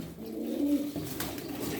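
A Nuhudi pigeon coos softly in a brief low call, fairly close, with faint background noise.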